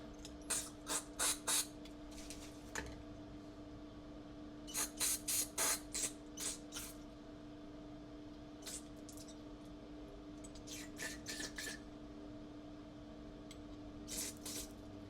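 Aerosol carburetor cleaner sprayed into the jet holes of a Yamaha 2000 generator carburetor, heard as several clusters of short hissing bursts separated by pauses, close and fairly loud over a steady background hum.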